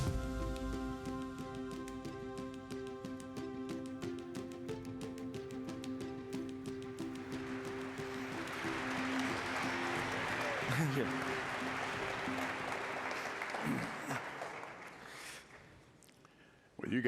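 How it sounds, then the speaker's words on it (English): An audience at a conference talk applauds as two speakers come on stage, sustained clapping over background music that swells, then fades near the end, with a brief spoken thanks. "Well, you guys get all the applause."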